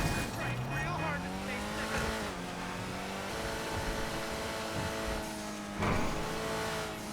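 An Ocelot Ardent sports car, modeled on the Lotus Esprit, drives downhill through traffic in GTA 5 Online, its engine whining and shifting pitch steadily with occasional revving throughout.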